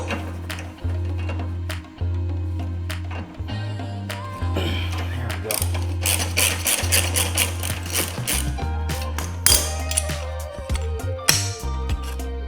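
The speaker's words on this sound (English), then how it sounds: "take a 16 millimeter socket and take this off" A ratcheting 16 mm socket wrench backs a license plate bolt off a 2015-2021 Subaru WRX/STI. It gives rapid runs of close, crisp mechanical clicks over a low steady hum, with brief pauses between bursts.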